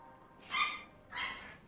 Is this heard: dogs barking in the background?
yes